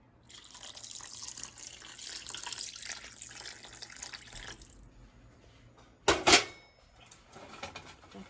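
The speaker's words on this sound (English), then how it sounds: "I'm gonna get some more water and add it in my gravy." Water runs from a kitchen tap in a steady splashing stream for several seconds, stops, and is followed by a brief louder clatter and trickle while gravy for beef liver is being made; no one speaks.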